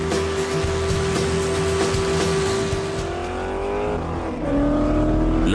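Rally car engine roaring steadily at high speed on an isolated road, a loud continuous drone with sustained revving and a shift in pitch near the end, heard alone with no voices.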